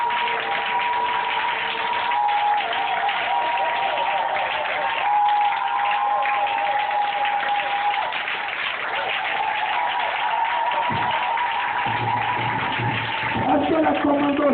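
A church congregation at a Sunday service applauds and acclaims Jesus, with sustained clapping and voices calling out together in a continuous wash, and a little music underneath.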